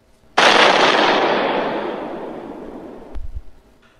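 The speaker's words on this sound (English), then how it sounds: "he detonates the explosive gel, and there was a huge explosion" A huge explosion as explosive gel detonates in the video game Batman: Arkham Asylum, a loud sudden blast with a long decaying roar, followed by a brief low thud near the end.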